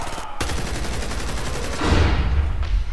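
Video-game gunfire erupts in rapid, dense bursts of close, loud shots. The firing breaks off briefly, resumes, then grows heavier with booming low thumps toward the end.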